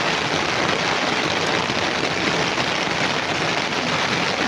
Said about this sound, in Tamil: பெங்களூரில் நம்ம வீட்டுக்கிட்ட மழை பாருங்க.